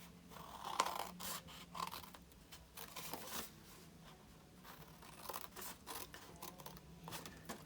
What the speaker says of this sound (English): And then just cut up each of the score lines across the bottom.